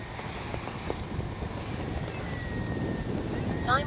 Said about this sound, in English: Gosh, it's windy.